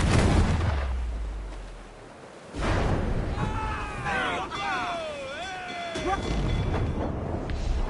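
Ship cannons firing in a naval battle in Assassin's Creed IV: Black Flag: heavy booming blasts at the start, middle and end, with shouting crew voices and whistling tones between the volleys.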